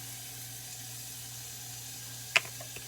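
Onions and black pepper hit a hot pan and give a faint, steady sizzling hiss, with one short sharp crackle or tap near the end.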